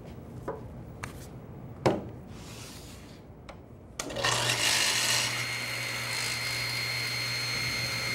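A table saw cuts a table leg held in a tapering jig. A few sharp knocks come first, then the blade spins up into a loud, steady whine that holds to the end.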